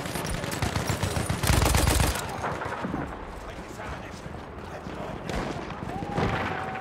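Gunfire rattles through a Battlefield 1 match, with dense, close bursts of automatic fire peaking early, then scattered, quieter shots and rapid volleys continuing against the battlefield noise.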